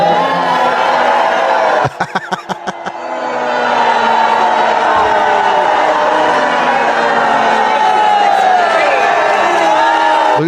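A packed town hall crowd in a strongly Republican part of Texas jeers a congressman with sustained loud booing and shouting, briefly broken by sharp rhythmic claps or bangs near the start.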